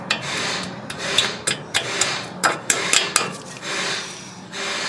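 Metal tool scraping and tapping at a cotter pin on a Toyota 4Runner front strut, a run of close, sharp scrapes and clicks in an irregular rhythm, no talk.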